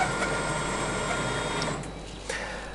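A used M Press 600 press brake runs with a steady mechanical whir and hum as the ram travels down, fairly close, easing off near the end with a faint clunk.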